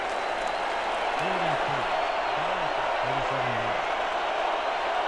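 A stadium crowd at a Honolulu home football game against Orlando roars in a steady, distant wash of noise, while a commentator's voice talks over it.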